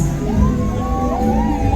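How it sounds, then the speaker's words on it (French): A crowd at a civil wedding in Kinshasa lets out cries of joy, loud overlapping shouts and whoops with high voices rising and falling over a dense, busy din. "accompagné de cris de joie"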